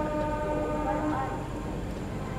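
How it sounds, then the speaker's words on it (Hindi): The Ranchi–New Delhi Garib Rath express train passes at Bhabhua Road station, a steady loud rumble of rolling wagons with a sustained horn tone running throughout. "12077 रांची नई दिल्ली गरीब रथ आ रही है अभी"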